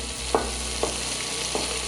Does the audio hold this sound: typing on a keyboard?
no